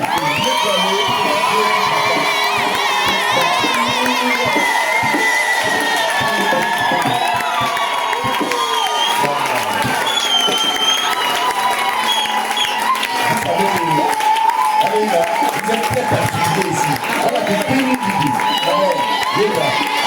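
A church congregation cheers, whoops and shouts for joy without pause, a loud dense crowd roar that fills the room, with excited voices calling out all through it.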